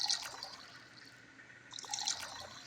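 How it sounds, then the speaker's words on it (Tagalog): Hot water is poured, probably for coffee, making a splashy trickling stream in two short bursts, one at the start and one near the end, with a quieter lull between them. Close and moderately faint. "tubig na lang kay Bunso na mainit"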